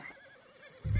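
A horse in Red Dead Redemption 2 gives a single loud neigh at the very end, after a second of quiet game ambience.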